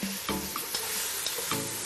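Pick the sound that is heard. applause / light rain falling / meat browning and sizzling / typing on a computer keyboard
meat browning and sizzling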